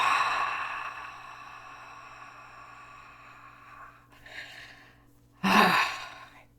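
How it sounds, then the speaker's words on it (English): A slow, deep breath drawn in and then released in a long exhale, followed by a sharper, louder rush of air out, close and clear with no talking. "Breathe in. And exhale."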